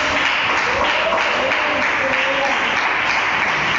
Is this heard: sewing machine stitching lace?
no